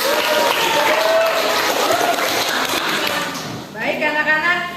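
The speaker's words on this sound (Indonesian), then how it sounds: "Tepuk tangan dulu dong." Classroom applause for a student after she asks a question, a steady patter of many children clapping close by, voices mixing in, fading near the end as someone speaks.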